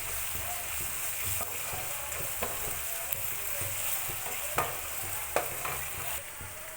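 Ginger garlic paste fries in hot oil with a continuous close sizzle, broken by scattered scraping stirs of a spoon against the pan.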